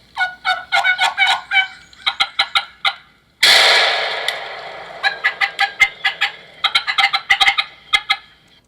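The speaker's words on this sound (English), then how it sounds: "You hear us do a lot of calling after the shot. We had a flock of turkeys around us." Wild turkeys gobbling loudly in rapid rattling bursts in the woods, mixed with hunters' turkey calls, one sharp blast breaking in midway followed by more gobbles and clucks.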